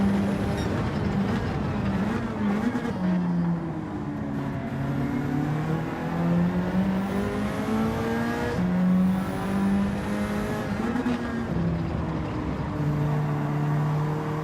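BMW race cars in the Gran Turismo 7 racing game, engines droning and shifting pitch steadily as they race in a lobby, a loud continuous whine rising and falling throughout.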